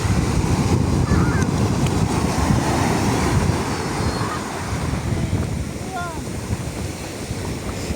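Rough sea waves on a boating outing roar loud and close in a steady, wind-buffeted wash of surf that barely changes throughout.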